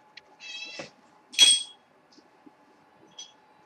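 A real cat meowing nearby, two distinct meows, a drawn-out one then a louder, brighter one, with a few faint clicks and a soft later chirp over a quiet background hum.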